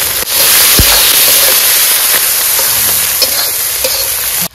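Onion, garlic, green chili and chopped ginger fry loudly in a pan at an outdoor riverside picnic, a dense, steady sizzle with faint stirring clicks throughout and nobody talking.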